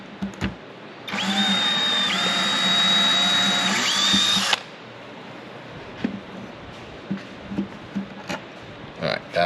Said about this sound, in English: I need you to drill that a little bit deeper into the wood.